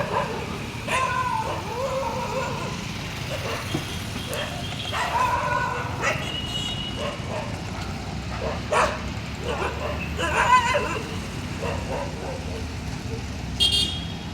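Several street dogs bark repeatedly, some yips and whines mixed in, over steady traffic noise on a six-lane road in Bhopal, with a car horn and voices nearby.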